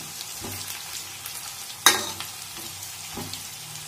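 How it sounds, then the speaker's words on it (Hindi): Sliced onions fry in hot oil as the tempering for a bitter gourd curry, giving a steady close sizzle with soft stirring and one sharp metallic clank of a utensil against the pan. "तो इधर मैंने प्याज डाल दिया है इसमें और इसको हम अच्छे से ब्राउन होने देंगे"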